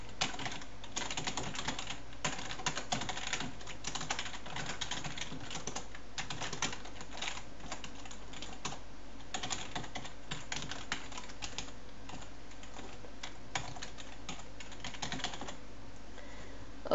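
Steady typing on a computer keyboard runs through the clip, with continuous close key clicks in an uneven rhythm and no talking.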